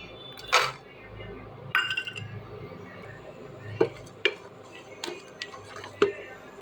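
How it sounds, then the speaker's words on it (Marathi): Raisins stirred in ghee in a pan give scattered clinks and taps of a utensil against metal over a low sizzle and background hum, sharp and close, with no speech. "1 चमचा तूप घालून मनुका परतवून घेऊ।"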